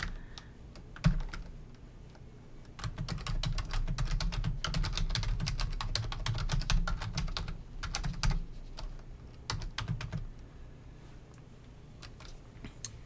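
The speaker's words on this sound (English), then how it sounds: "So I'm just going to type a quick message." A computer keyboard is typed on steadily, with a close, rapid patter of key clicks running in short bursts and brief pauses, and no voices.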